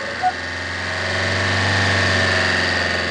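A car engine idles steadily with a low, even hum and a faint rattle, holding a constant pitch throughout.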